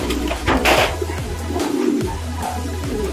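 Racing pigeons coo close by in a loft, a series of low, throaty repeated coos in a steady rhythm, fairly clear with light background noise.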